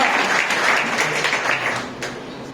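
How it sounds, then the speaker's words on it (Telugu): A congregation clapping loudly at a Telugu Sunday church service, a dense, energetic burst of many hands with a few sharper individual claps, fading gradually over a couple of seconds. "చప్పట్లు కొడతాం,"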